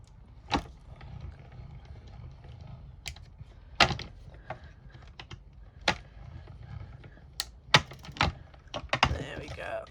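A hand-cranked die-cutting machine winds plates through with a low mechanical rumble under a series of sharp clicks and clacks, irregular and close, building into busier rattling toward the end.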